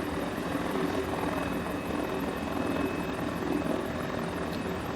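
A Mini 500 helicopter in Microsoft Flight Simulator flies along the coast at Kiama, Australia. The rotor and engine give a steady, unbroken whir that stays even and close throughout.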